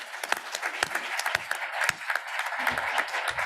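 An audience at a SWOG hybrid group plenary meeting gives steady, moderately loud applause, a dense patter of many hands clapping together for the whole stretch.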